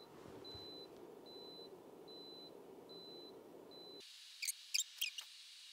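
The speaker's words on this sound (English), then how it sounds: "if it senses that it gets tipped over, it shuts off and the alarm sounds" A thin electronic beep from a Dreo space heater's tip-over alarm repeats in short, evenly spaced pulses over a low hum, then the hum cuts out as the heater shuts off, leaving a few faint clicks.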